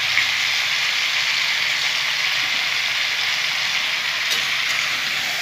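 A pan on a high gas flame gives a steady, dense frying hiss, like light rain, as the contents are stirred, with a faint scrape near the end and no voices.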